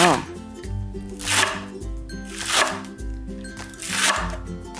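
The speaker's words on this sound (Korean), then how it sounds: "쪽파는 흰 부분은 송송 썰어주세요." A knife cuts green onions for chonggak kimchi on a cutting board, with firm rhythmic chops landing about once a second, each followed by a softer scraping sweep, close and clear.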